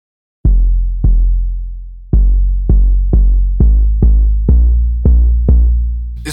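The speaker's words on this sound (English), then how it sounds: "If you want like a clean, just sounding 808 kick, this is a good one to use right here." Clean, booming 808 kick drum from the Pro Tools stock Endless 808 sample, struck ten times in an uneven rhythm, each hit deep and sustained with a long decaying tail, loud and alone.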